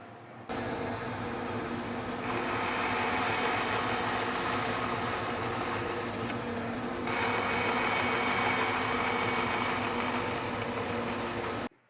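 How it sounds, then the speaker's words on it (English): Bandsaw cutting a wooden tenon, a steady mechanical whine and hum running throughout, growing louder and rougher while the blade is in the wood, then easing and swelling again before stopping. "I'm gonna do that here on the bandsaw. I'll cut most of it here."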